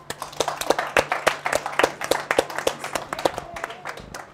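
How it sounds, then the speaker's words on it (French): Audience clapping at a comedy show for a comedy duo, a fairly small crowd with sharp, distinct claps in a loose rhythm, close and moderately loud, tapering slightly at the end. "Je pense qu'on va déjà les applaudir très fort"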